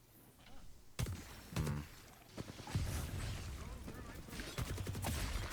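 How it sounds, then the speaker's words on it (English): Gunfire from the Apex Legends video game: sharp shots and bursts crackle irregularly, some close and punchy, others spread over a dense, busy background of battle noise. "There's shots around you."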